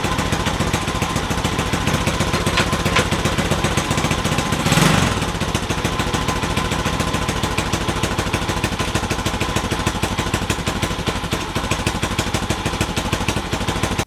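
A Honda Trail 70 motorcycle engine runs at a steady idle, giving an even, rapid putter close by for the whole stretch, with one short louder burst near the middle.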